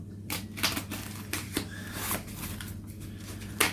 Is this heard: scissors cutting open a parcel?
yes